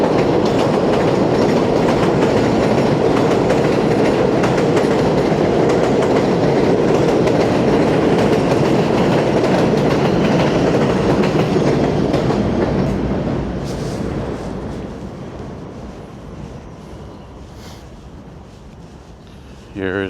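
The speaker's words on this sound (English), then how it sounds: "Here comes the A train." A New York City subway A train rolls past in Ozone Park, Queens, loud and steady with rail clatter for about thirteen seconds before fading into the distance; a voice talks faintly beneath it.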